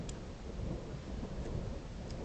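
Thunder rumbles low and continuous through a thunderstorm, a soft distant roll with a little rain noise and no voices.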